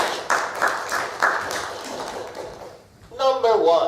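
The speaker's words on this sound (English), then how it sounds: "Clap hand for our new patients to go on stage." An audience claps hands as patients head to a stage, a scattering of separate claps that fades, then a voice speaks near the end.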